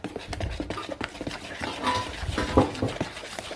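Semolina milk cake batter stirred in a bowl, a close series of wet scraping and clinking strokes in an uneven rhythm, with no voices over it.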